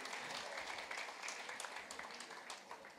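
An audience applauds Kailash Kher at a celebration of his Padma Shri award, a dense, steady patter of many hands clapping at close range for three seconds with a faint murmur of voices underneath.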